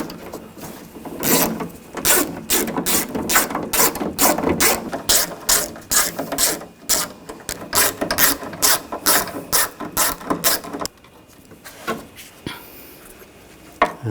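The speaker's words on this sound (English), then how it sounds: "Use a 10mm socket," Ratchet with a 10mm socket backing out door bolts on a 2000-2006 BMW X5, a loud close run of rapid clicking strokes that stops, then a few quieter clicks.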